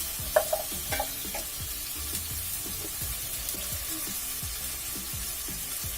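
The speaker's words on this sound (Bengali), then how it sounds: "তা মশলাটা আপনারা ভালোভাবে কষিয়ে নেবেন" Spice paste with turmeric powder fried and stirred in a pan for green papaya fish curry, a steady close sizzle with repeated spoon scrapes against the pan.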